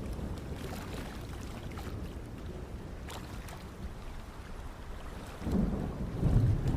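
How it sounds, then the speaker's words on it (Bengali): Oars pull a boat along a river in a steady wash of water and wind-like noise that swells louder near the end, with no voices. "চুপচাপ নৌকা বাইতে লাগলাম।"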